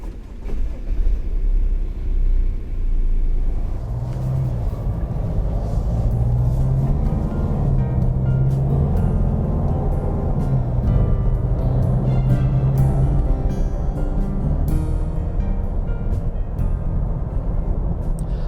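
A 2015 facelift Mazda6 with all-wheel drive and a 2.2-litre diesel engine, heard driving on the road as a steady low rumble of engine and road noise with tyre hum, continuous and close, no talking.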